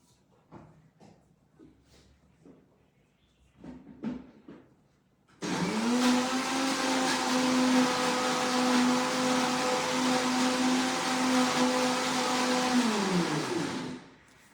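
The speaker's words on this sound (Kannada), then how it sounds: "ನಾನು ಇನ್ನೊಂದು ಚೂರು ಫ್ರೆಶ್ ಕ್ರೀಮ್ ಹಾಕಿ ಇನ್ನೊಂದು ರೌಂಡು ಗ್ರೈಂಡ್ ಮಾಡ್ಕೊತೀನಿ" A mixer grinder whirs into a loud, steady drone as it grinds a paste with fresh cream, running about eight seconds before winding down, after some brief handling clatter.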